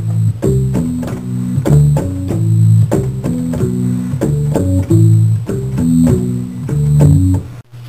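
Guitar plays a repeating bass line, a steady run of plucked low notes in a looping pattern, loud and close with no talking.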